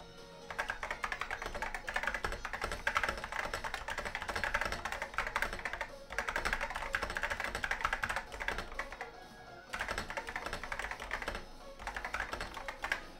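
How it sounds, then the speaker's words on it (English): Steady typing on an IBM "Pingmaster" 4707 keyboard, a dense run of close key clicks and clacks in three long bursts with brief pauses between them, no voices. "All right, I guess we can do a quick typing test."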